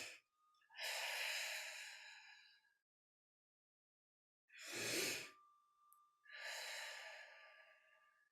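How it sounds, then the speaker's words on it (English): Three deep breaths during a guided meditation: a long slow inhale, a shorter sharper intake, then another long drawn breath, each close to the ear with silent pauses between and no talking. "And we'll take in 3 breaths."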